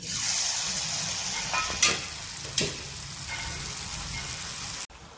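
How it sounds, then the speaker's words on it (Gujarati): Chakli, a spiral snack, frying in hot oil gives a steady close sizzle and crackle, with a couple of sharper bursts partway through and an abrupt stop near the end. "હવે તેલ ગરમ થઈ ગયું છે, હવે આપણે ચકરી અંદર તેલમાં તળવા નાખીશું।"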